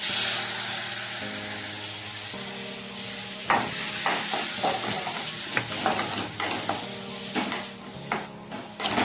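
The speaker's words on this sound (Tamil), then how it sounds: "அடுப்பை குறைச்சி வச்சுக்கிட்டு நல்லா செவக்க கிண்டணும்" A ground paste of coconut and shallots is stirred in a pan over low heat, with a soft sizzle and a run of scraping and clinking strokes from the spoon in the later seconds.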